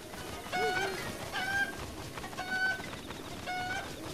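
A chicken clucking in The Legend of Zelda: Breath of the Wild near Kakariko, four short repeated clucking calls at a steady pace over a soft ambient game background, moderately loud, with no talking.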